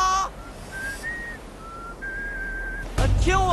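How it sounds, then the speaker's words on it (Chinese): A whistle signals the start of a footrace toward a tactical net, giving a few clear, thin pitched tones held in short stretches before a louder burst of noise at the end. "听我的哨子啊！"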